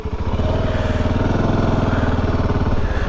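A Voge 650 DSX twin-cylinder adventure motorcycle pulls away in first gear with a loud, close, pulsing engine throb that climbs steadily in pitch. There is no speech over it.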